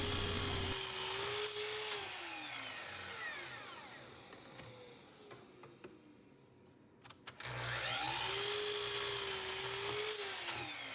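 A power saw trims edges and cuts wooden pieces for a charging station build, with two loud whining cutting passes separated by a quieter spin-down and a few knocks as the wood is handled.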